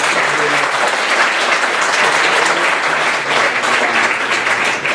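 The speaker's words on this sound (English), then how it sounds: "Let's give another round of applause here to filmmaker." A theater crowd at a film premiere in Monterey gives a filmmaker a loud, sustained round of applause, many hands clapping densely and evenly throughout, with faint voices mixed in.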